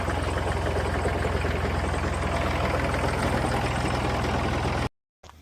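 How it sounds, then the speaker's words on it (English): An old Massey Ferguson tractor engine idles steadily and close by, a low, even chugging that runs alone for about five seconds before cutting off abruptly. "It appears I do have a running tractor."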